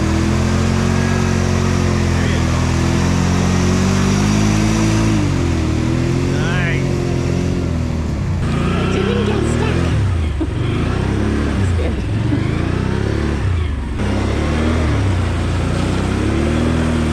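A 2022 Can-Am Outlander 570 XMR ATV engine hums and revs continuously during mud riding, rising and falling in pitch over a steady drone, with people talking over it.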